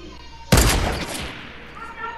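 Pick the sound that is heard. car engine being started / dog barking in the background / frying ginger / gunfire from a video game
gunfire from a video game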